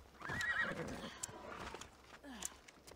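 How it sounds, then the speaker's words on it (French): A horse whinnies loudly in Assassin's Creed Odyssey, its neigh standing out early, followed by lighter hoof clops and rustling movement in the game world. "Je vais devoir laisser tomber le cheval"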